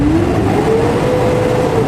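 A Hino 500 series truck engine, suffering low power and hard starting, revving steadily at a held higher RPM, a loud, continuous drone with a slowly rising whine and no voices over it.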